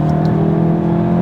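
A Volkswagen Golf GTI with 245 horsepower and dynamic chassis control drives at speed, its engine making a steady, loud, close hum under strong road and wind roar, with no talk.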